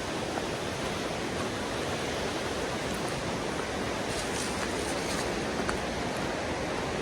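Fast-flowing Appalachian mountain stream and river running high with runoff, a steady, dense, broadband rush of water that stays loud and unbroken throughout with no voices.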